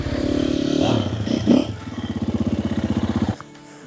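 A 2026 Triumph TF450-C enduro motorcycle ridden over West Virginia off-road terrain; its single engine chugs and revs close by in rhythmic pulses, then cuts away abruptly near the end.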